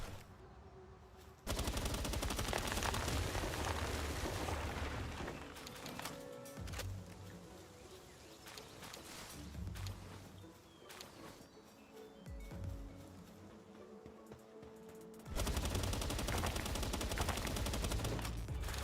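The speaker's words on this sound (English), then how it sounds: "I'm cutting wood with bullets." Rapid automatic gunfire from Palworld hammers away at trees in long sustained bursts, loud and dense, with a pause in the middle and a renewed burst near the end over background game sounds.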